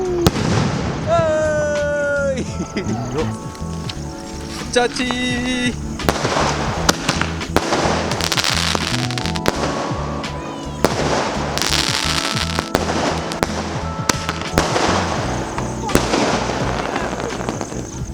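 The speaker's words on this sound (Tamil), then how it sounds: "வெடிக்கிற பட்டாசியோட பில்டப்பாக நீங்கள் கேட்கலாம்." Big Diwali firecrackers go off in a dense, continuous barrage of loud bangs and crackling bursts, opening with rising whistles, with people talking and calling out between the blasts.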